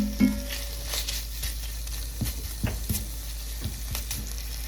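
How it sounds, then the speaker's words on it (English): Bacon crisping in a hot pan, a continuous close sizzle broken by irregular crackles and a few louder pops, with nobody speaking. "can hear that sizzle of the bacon"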